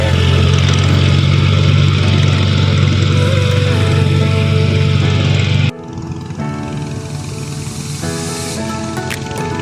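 A Kubota L4018 tractor with a 40 hp, 1800 cc engine, fitted with steel cage wheels for leveling a rice paddy, drones loudly and steadily close by, its tone shifting abruptly partway through as the engine load changes.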